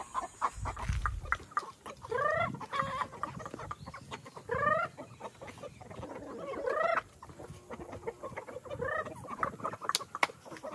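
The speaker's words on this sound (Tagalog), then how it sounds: "ito yung mga breeders natin ng mga Rhode Island Red" Rhode Island Red and White breeder chickens cluck and squawk during feeding on a farm, with repeated overlapping calls, fairly close and moderately loud, and a brief thump near the start.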